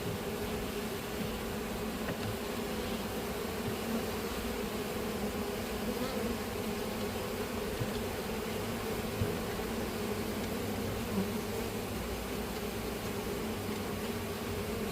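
Dense, continuous buzzing of many bees close by, steady and unbroken throughout with no voices.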